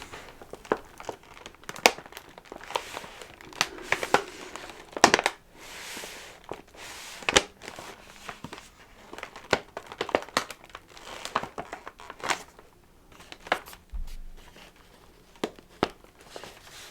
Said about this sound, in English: a crinkle test.